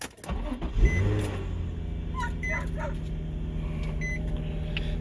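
A Nissan 350Z's engine cranks and catches on its stock exhaust, then settles into a smooth, quiet idle, with faint chirps and beeps over it.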